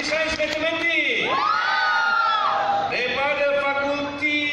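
Students in a university hall erupt in loud cheering and whooping for a faculty, with overlapping shouts rising and falling in waves throughout.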